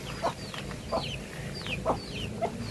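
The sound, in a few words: chickens clucking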